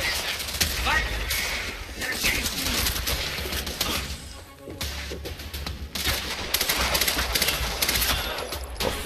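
Bursts of gunfire ring out in the video game Quantum Break, repeated clusters of sharp shots with brief lulls between them, loud and close over background game ambience.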